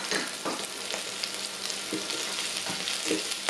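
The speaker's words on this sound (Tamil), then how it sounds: "வெங்காயம் இப்போ வதங்கி வந்துட்டு" Onions sautéing in a pan for vegetable pulao, a steady dense sizzle with a few scraping stir strokes, close and continuous with no talking.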